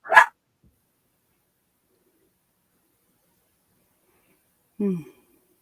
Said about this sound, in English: I gotta mute these crazy dogs.